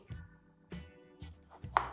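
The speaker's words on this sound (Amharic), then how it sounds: "ቀጣይ ስራችን የሚሆነው ቲማቲማችን መክተፍ ነው።" A knife chops a tomato for a salad on a cutting board, with four evenly spaced, close thuds about half a second apart and no voices.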